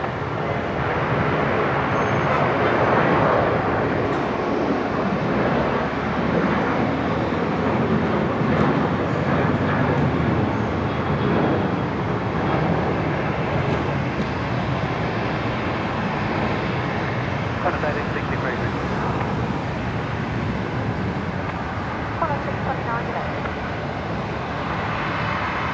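A jet airliner lands on runway 01 right at Brisbane airport, its broad engine roar loud and steady for the whole stretch before easing off slightly near the end.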